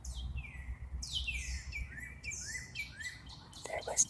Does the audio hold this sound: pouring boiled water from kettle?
no